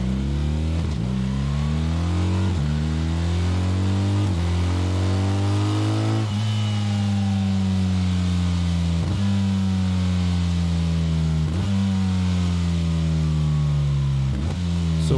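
The boxer engine of a BMW GS 1300 motorcycle revs repeatedly, each climbing whine dropping back before rising again in a loud, close, continuous run of accelerations with a slightly rattly edge.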